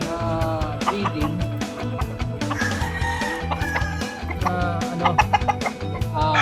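Chickens cluck and call in a backyard breeding coop, a rooster among them, with dense overlapping clucks and short crows close by and a voice speaking briefly underneath.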